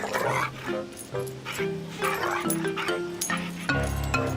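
A small dog yips, barks and whimpers repeatedly in short excited bursts, close and fairly loud, with only a little background sound.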